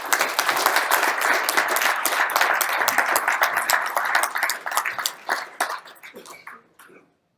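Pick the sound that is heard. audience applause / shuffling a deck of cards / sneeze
audience applause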